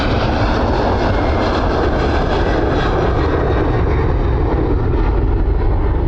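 A jet airliner roars down the runway on its take-off run at Dublin Airport, a loud, sustained broadband engine rumble holding steady throughout with no pauses.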